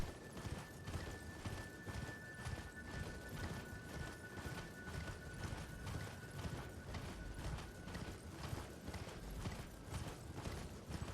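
In the video game Elden Ring, a horse gallops with rapid, evenly spaced hoofbeats that run unbroken and fairly loud throughout, with no talk.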